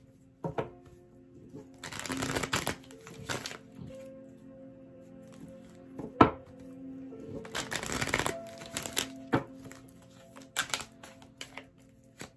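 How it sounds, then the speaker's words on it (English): Tarot cards shuffled by hand in two main bursts of riffling, each lasting about two seconds, with scattered soft taps and card handling between them, close and fairly quiet, with light background tones. "Two more shuffles."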